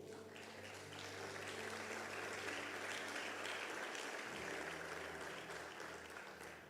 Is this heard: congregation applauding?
yes